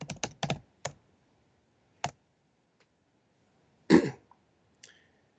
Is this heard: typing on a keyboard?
yes